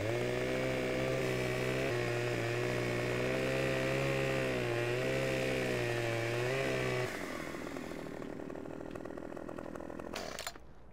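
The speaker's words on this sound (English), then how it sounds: "you can actually chainsaw it down while it's on the back here" A chainsaw in Farming Simulator 15 cuts into a log loaded on the back of a vehicle. It gives a loud, steady, close buzzing whine whose pitch wavers as it bites, then rougher cutting noise before it stops abruptly.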